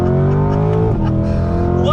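A 2020 C8 Corvette with a naturally aspirated pushrod V8 and the Z51 package accelerates hard from a standstill. The engine note is loud and close, with its pitch climbing steadily and a brief dip as it shifts.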